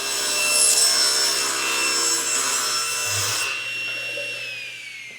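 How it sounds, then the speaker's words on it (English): A hand saw cuts through wood with continuous, steady rasping strokes, close and loud, slowly easing off toward the end, no talking. "That's actually a really nice saw."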